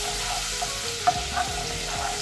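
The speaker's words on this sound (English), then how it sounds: "Get your spatula or a spoon and give it a nice stir so it basically infuses with" Garlic paste stirred into hot oil with a spatula, giving a steady close sizzle with a few soft scraping clicks and small pops, no talk.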